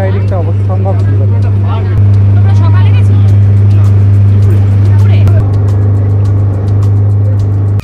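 A motorboat ride on Umiam Lake in Meghalaya brings a loud, steady low engine drone that runs throughout, with a person talking over it.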